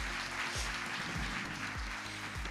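Audience applause for an upline couple at a network marketing talk, a steady wash of many hands clapping with periodic low thumps underneath, sustained throughout without speech.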